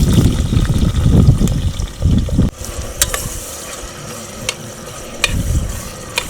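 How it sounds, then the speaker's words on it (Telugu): Biryani cooking in leftover frying oil at a night campsite on an Odisha hilltop, a loud continuous sizzle with stirring scrapes, then quieter bubbling with scattered sharp metallic clinks, no talk. "బిర్యానీ వండేస్తున్నాం"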